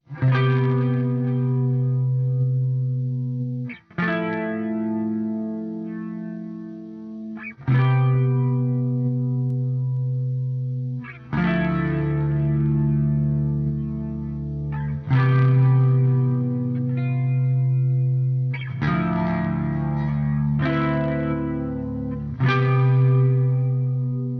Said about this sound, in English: adding in that delay and reverb is super important for a clean tone